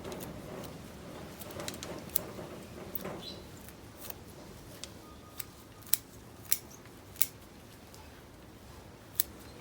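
Scissors snipping through the roots of a trident maple bonsai during repotting, with a series of sharp, close clicks at irregular intervals over a low background rustle.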